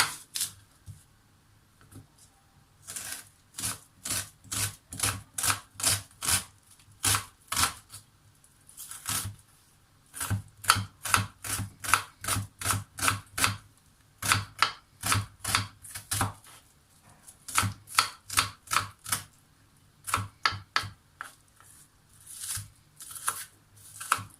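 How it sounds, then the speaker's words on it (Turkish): Two medium onions being diced with a knife on a board, a long run of quick, crisp chopping taps in bursts with short pauses, close and clear with no talking. "Yemeğimiz için iki tane orta boy soğan yeterli. Yemeklik doğrayacağım."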